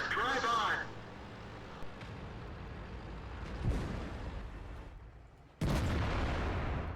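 Tank cannon fire in the video game World of Tanks, with a sharp heavy boom near the start followed by rumbling battle noise and a second loud blast near the end.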